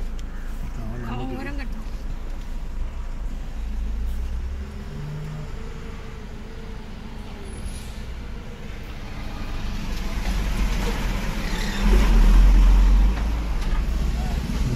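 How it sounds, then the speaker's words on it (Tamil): A lorry drives along an uneven, poorly kept road near the Thiruporur Murugan temple, its steady low engine rumble swelling as it approaches and growing louder toward the end, with faint traffic noise in the background. "இப்போ பாருங்கள் அந்த லாரி எப்படி வருதுன்ட்டு."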